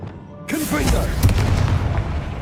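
Confringo blasting spell exploding in Hogwarts Legacy, a sudden loud boom with a deep rumbling blast that rolls on and slowly decays, with a faint voice just before it.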